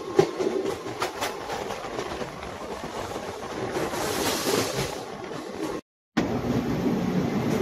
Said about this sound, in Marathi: बघा हे स्पेशल ट्रेन आहे, लेट नाही चालत आहे.